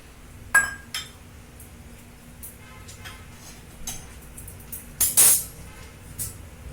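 Rice being added to a cooking pot on a gas stove while making vegetable biryani at home, with scattered metallic clinks and clatters of utensils and pan, a few louder knocks near the end, against a quiet background.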